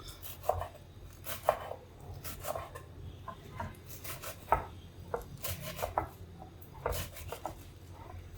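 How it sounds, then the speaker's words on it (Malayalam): Fenugreek leaves are bunched in the hand and chopped finely with a knife on a board, making irregular, crisp cutting taps in quick clusters over a soft background hum. "ഇല നമുക്ക് അരിഞ്ഞെടുക്കാം അതിന് വേണ്ടിയിട്ട് ഇങ്ങനെ നമ്മൾ കയ്യിലോട്ടൊന്ന് ഒതുക്കി പിടിച്ചിട്ട് ചെറുതായിട്ട് കട്ട് ചെയ്തെടുക്കാം"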